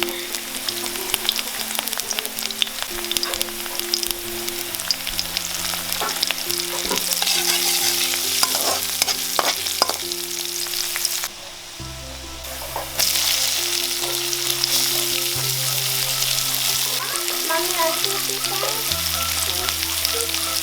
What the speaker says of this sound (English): Heat some oil, drop all of them in, add some salt, saute for a while, and you made some delicious fried bamboo shoot.